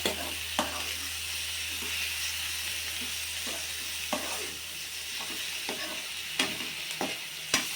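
Tripe curry with ginger-garlic paste and onion fries in a hot pan, a steady sizzle broken by regular scrapes and knocks of a spoon as it is stirred.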